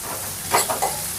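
A spoon mixing ridge gourd curry with milk and green chillies in a pan, three quick soft stirring scrapes over a constant sizzling hiss, close and fairly quiet.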